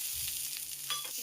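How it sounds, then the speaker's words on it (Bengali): Chopped ginger, green chili and curry leaves frying in oil in a pan, making a steady, bright sizzle with a soft stirring scrape, close and alone. "আদা কুচি, কাঁচা লঙ্কার কুচি পরিমাণ মতো দিয়ে দিলাম, দিয়ে আবার ভালো করে ভেজে দিচ্ছি"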